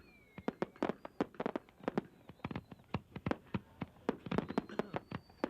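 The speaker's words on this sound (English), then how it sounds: "a gasoline-soaked teddy bear that turns a bonfire into a display of homemade fireworks" A gasoline-soaked teddy bear burning in a desert bonfire sends off rapid irregular pops and crackles of homemade fireworks, sharp bursts clustered in quick runs, at moderate distance.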